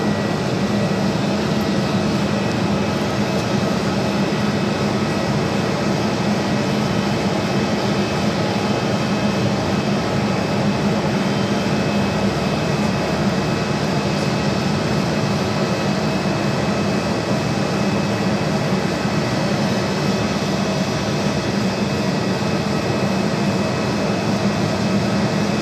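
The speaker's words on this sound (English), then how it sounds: "this flight heading to Dallas-Fort Worth, Texas in the 787-8 Dreamliner" A Boeing 787-8 Dreamliner takes off toward Dallas-Fort Worth, its jet engines giving a sustained, even roar and broadband rumble at a steady loudness, heard from a distance at the airport.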